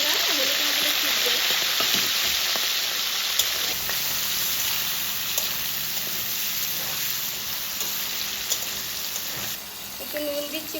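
Chicken sizzling in hot sunflower oil in a wok for chow mein, a dense, loud, rain-like crackle that runs steadily throughout with occasional clinks of a utensil. Speech in Bengali runs beneath it.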